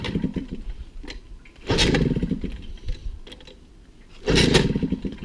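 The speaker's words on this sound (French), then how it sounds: "Et on va essayer de la démarrer." An MBK 51 Hard Rock moped engine being kick-started without the choke, two or three brief sputtering bursts that catch for a second and die, close and fairly loud.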